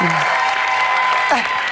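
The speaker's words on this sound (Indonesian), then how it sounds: "Tepuk tangan" Studio audience of a game show applauding, a steady clapping bed partly covered by a voice and a bright musical tone, with sliding vocal sounds at the start and near the end.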